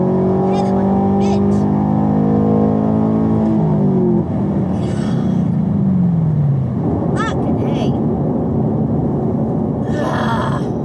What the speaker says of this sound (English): I'm learning to do a burnout and I'm getting a fucking tire.